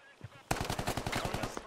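Assault rifle fire in the Squad video game, a sudden loud burst of rapid automatic shots in quick rhythmic succession after a brief quiet lead-in.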